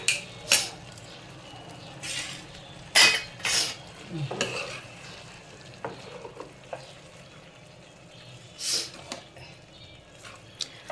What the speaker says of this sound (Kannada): ಬೇಯಿಸಿರೋ ಅವರೆಕಾಳು ಹಾಕ್ತಾ ಇದ್ದಾರೆ